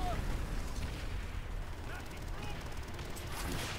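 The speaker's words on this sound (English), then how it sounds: "Fire the Panzer Shrek!" A Panzerschreck rocket launcher fires amid a World War II battle in Call of Duty: World at War, heavy booming blasts and gunfire rumbling under continuous noisy combat, with a player talking over it.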